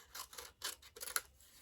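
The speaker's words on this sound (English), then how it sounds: "I'm going to take my snips and cut off the Oh Happy Day" Snips cutting through card paper, about four short crisp snipping bursts close up, quiet, with no talk.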